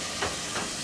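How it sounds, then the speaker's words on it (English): Frozen meat browning in a regular pan, a steady loud sizzling hiss with a few brief surges, close up. "So she's browning the meat there"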